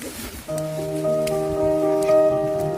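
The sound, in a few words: rain pouring during a mountain hike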